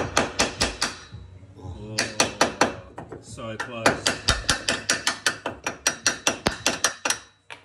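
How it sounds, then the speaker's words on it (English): Sharp, ringing hammer blows strike a metal tow hitch mounted carrier on a Nissan X-Trail T31 in quick repeated bursts, dozens of close, loud clanks with brief pauses between runs. "just hit it with a hammer"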